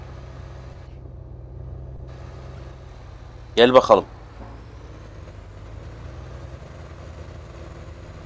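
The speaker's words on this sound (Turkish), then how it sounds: "egzoz sesi tot tot tot tot tot diye tarıyor şu anda" Massey Ferguson tractor in the BeamNG video game, driving a snowy off-road village track: a low, steady exhaust rumble throughout, with a short louder burst midway, while someone talks over it.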